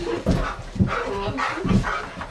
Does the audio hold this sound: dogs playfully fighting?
yes